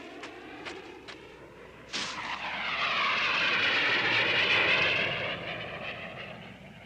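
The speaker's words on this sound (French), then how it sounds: "Des avions de reconnaissance." Reconnaissance airplanes roar overhead, building from a distant drone to a loud, broad rush of engine noise that peaks and then slowly fades.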